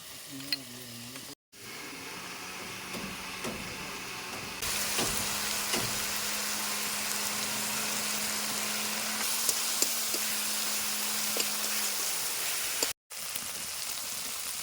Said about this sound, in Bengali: ভালো করে কষিয়ে নিই মশলাটা